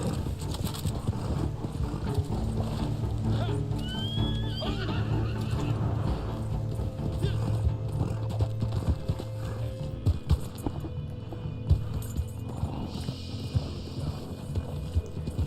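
Steady hoofbeats clop along under a low mechanical hum in the video game Red Dead Online, with a horse whinnying briefly partway through.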